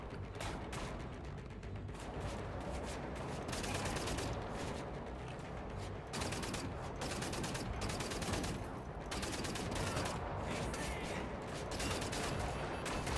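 Dense, continuous automatic gunfire from a gun in the shooter Wolfenstein: The New Order, loud bursts rattling almost without pause over a steady game soundscape, with only brief gaps between volleys.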